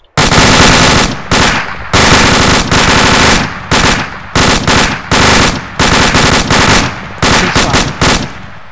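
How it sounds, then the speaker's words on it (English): Machine guns fire in the video game ArmA 2, loud continuous bursts about a second long separated by brief pauses, several guns overlapping at close range. "fire off a burst with your machine guns"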